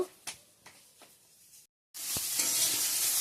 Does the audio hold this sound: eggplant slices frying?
yes